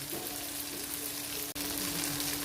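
Stuffed brinjal curry, bharwa baingan, cooking uncovered in a pan, giving a quiet steady sizzle and bubbling throughout, with a brief faint knock near the end and no talking.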